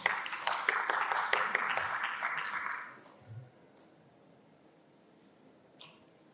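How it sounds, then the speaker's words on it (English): A small room audience at a crypto conference claps after a talk, sparse distinct hand claps for nearly three seconds that then stop abruptly, leaving quiet room tone with a couple of faint clicks. "Another round of applause"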